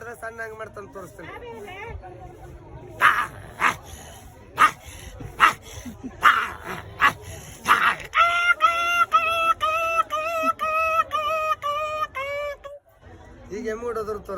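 A woman imitates a big dog with her voice, letting out a string of sharp, separate barks, then a run of rapid, pitched yelps and whines, close and loud.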